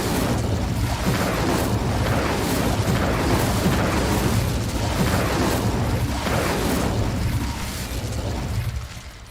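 Fiery Incendio spell cast in a fantasy video game, a sustained roaring, crackling burst of flame with repeated surges that stays loud for about nine seconds before tapering off near the end.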